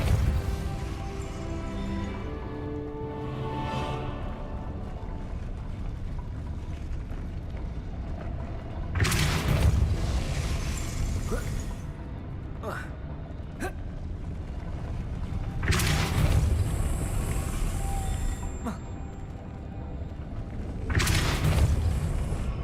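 Depulso spell impacts in Hogwarts Legacy: three loud, sharp bursts of force, spaced several seconds apart, standing out over a steady bed of ambient game music.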